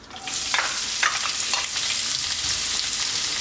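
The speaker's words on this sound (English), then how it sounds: "Now we're going to add our onions" Onions dropped into hot oil already infused with spices for chana masala, an Indian chickpea curry, set off a loud, steady, close sizzle that continues without a break, with light stirring scrapes mixed in.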